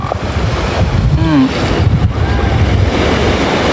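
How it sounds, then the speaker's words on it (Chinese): Ocean waves and steady wind at a rocky seaside near Ningbo, a loud continuous wash of surf with heavy wind buffeting the microphone and a faint tonal whistle drifting through, no talk. "我们现在在宁波附近的海边"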